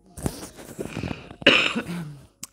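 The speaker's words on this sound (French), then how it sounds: "Ça me laisse sans voix, ça me fait tousser." A woman coughs a few times during a spoken astrology reading, short rough bursts followed by a sharper harsher cough and a faint final catch, close to the microphone.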